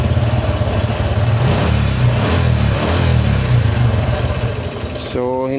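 A Honda XRM125 fi motorcycle engine idles steadily and close, a loud even putter with a low chugging rhythm that continues throughout, with no talk over it.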